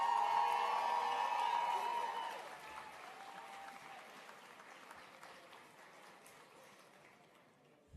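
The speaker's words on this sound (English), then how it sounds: "Can you give them a round of applause for me?" A crowd at a general election night event claps. The applause starts full and close, then thins and fades steadily over several seconds.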